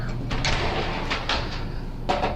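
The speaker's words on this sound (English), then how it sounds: "Glass shower doors here." Sliding glass shower door in a 2017 Airstream Classic 33 travel trailer rolling along its track, a rushing glide with a couple of bumps and a soft knock near the end, close and fairly loud.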